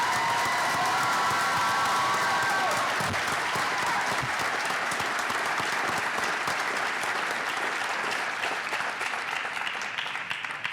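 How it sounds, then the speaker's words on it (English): A crowd at a fire and EMS recruit class graduation ceremony gives sustained applause for a bagpiper, thick continuous clapping with a few cheers mixed in, loud and unbroken throughout. "How about another round of applause for our bagpiper today?"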